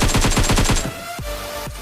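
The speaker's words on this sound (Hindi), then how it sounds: "उसमें एक भयंकर फायर आया, तो मैंने भी अंधा फायर कर दिया" Rapid burst of automatic gunfire in a battle royale video game, about seven sharp evenly spaced shots, followed by two heavier single shots with ringing tails, loud and close with no talk.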